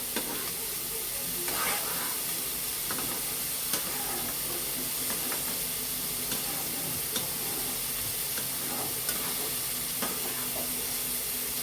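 Spice paste is stirred in a hot pan, loud and close, with a constant sizzle and hiss broken by repeated scraping clicks of the spoon, and no speech.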